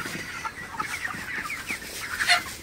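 Broiler chickens on a poultry farm clucking steadily at close range, a busy layered chorus of short calls with no talk.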